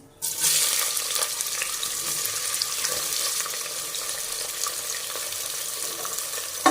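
Chopped onions hit hot oil with cloves, cardamom and cinnamon for a chicken biryani masala, bursting into a bright, continuous sizzle that stays fairly even and close with no talking.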